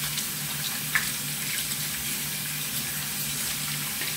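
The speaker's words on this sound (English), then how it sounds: "We need to wash our hands." Water runs steadily from a tap as hands are washed before a chili crab dinner, a continuous close hiss of flow with a brief splash near the start and no talking.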